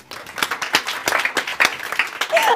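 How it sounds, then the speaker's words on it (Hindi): A small group of people clap in an office, a short burst of uneven, fairly close handclaps lasting a couple of seconds. "ताली बजा दो यार।"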